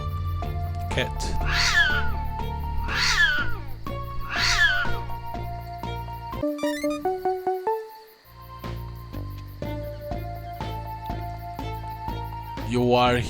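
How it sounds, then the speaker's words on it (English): Repeated cat meows in a murder-mystery video game, three clear rising calls close together over a steady game music bed, followed by tonal chimes and a brief pause before the music resumes. "Cat."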